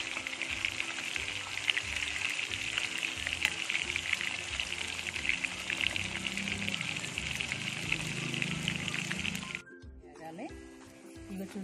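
Koramenu fish pieces frying in hot oil, a dense close crackling sizzle that runs steadily before dropping off sharply near the end, with talk over it.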